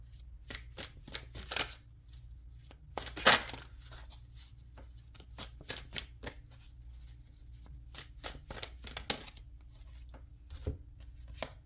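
Tarot cards shuffled and drawn, quick crisp riffling bursts and soft card slaps repeating close up over quiet room hum, with no talking.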